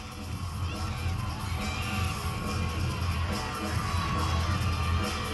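Arena crowd at an NCAA gymnastics championship roars and cheers continuously, a dense wash of yells and whoops that stays loud throughout while a routine goes on.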